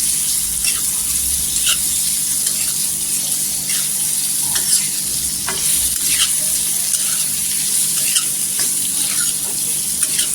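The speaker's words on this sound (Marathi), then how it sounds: "इथे पूर्णपणे असं तेलावर गोल्डन कलरवर भाजून घ्यायचं।" Sliced onions fry in oil for an egg masala, giving a steady, close sizzle with light crackles and occasional stirring scrapes, no voices heard.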